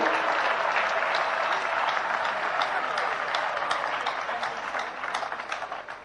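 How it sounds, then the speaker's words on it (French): A church congregation applauding for Jesus Christ during a sermon, dense sustained clapping from a large crowd that holds steady and then thins slightly toward the end. "Acclamation à Jésus-Christ. Clap for Jesus Christ."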